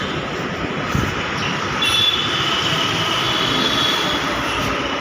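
A metro train rumbles steadily nearby, with wheel noise and faint high squeals over a constant hum, no talking.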